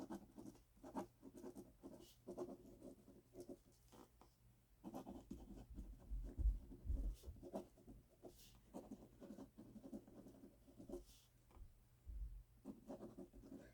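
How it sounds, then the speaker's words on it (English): A pen writes cursive notes on paper close by, giving quiet, irregular scratchy strokes in short bursts with brief pauses, soft knocks in between and no talking. "what I'm doing right now is I'm writing down my notes"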